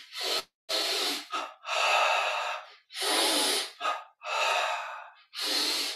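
Slow, deep breaths in a guided yoga and meditation exercise, each long airy inhale and exhale heard close and alone, about seven breaths separated by short pauses.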